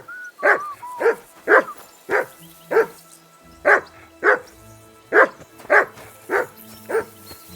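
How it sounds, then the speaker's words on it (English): A dog in the video game Kingdom Come Deliverance II barks loudly and repeatedly, about a dozen sharp barks in a steady rhythm with faint tonal whines between them. "That dog of yours is barking like the devil."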